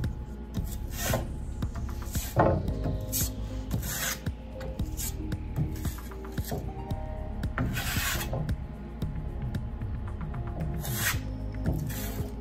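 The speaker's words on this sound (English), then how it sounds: "I just like to use the trowel like a palette knife and give myself like a cool effect around the edges." A trowel spreads a blue lime putty skim coat over intonaco plaster, giving a continuous gritty rasping scrape with repeated strokes close up and no talking.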